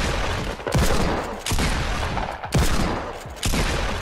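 Four loud, evenly spaced blasts from a pump shotgun in the Fortnite battle royale game, each a sharp, heavy boom with a short decaying tail, roughly one per second, over steady game ambience with no talking.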